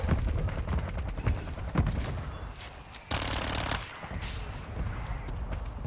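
Gunfire from the shooter Warzone 2 in a trios match near a gas station: rapid close machine-gun bursts and single heavy shots, loud and continuous with a few short pauses.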